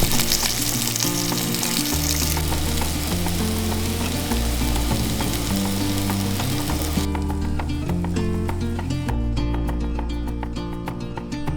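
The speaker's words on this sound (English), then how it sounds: "Something we love making for lunch is with our leftover pumpkin is fried pumpkin chips with a bit of herbs and salt." Leftover pumpkin chips fry with herbs and salt in a pan, a steady close sizzle running throughout with no talk, while music plays loudly over it.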